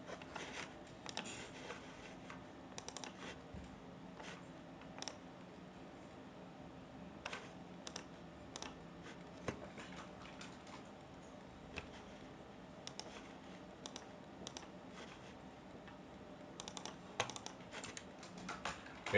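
Steady typing on a computer keyboard while entering C language code, with irregular quick key clicks and clustered bursts running throughout, close and fairly quiet with no talking.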